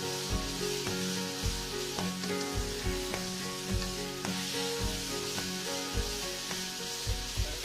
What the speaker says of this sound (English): you throw your ginger and your garlic and your chilli all in together. Just scrape it all up.